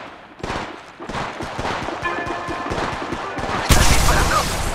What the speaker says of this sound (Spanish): ¡Estás disparando!